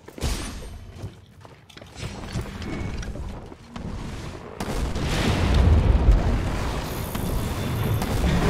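A bomb blast in Monster Hunter World erupts as a loud, deep boom partway through, its rumbling roar sustained over game ambience to the end.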